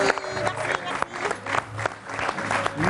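A talk show studio audience applauds a guest, a busy crackle of many hands with a few sharper claps standing out, while music and voices carry on underneath.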